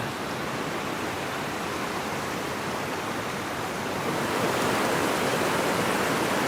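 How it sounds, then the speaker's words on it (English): A small creek of cold snow runoff water rushes steadily, loud and close, as a dense unbroken hiss that swells slightly toward the end, with no voices. "Yeah, that little creek. Gotta be all snow runoff. But that's some cold water."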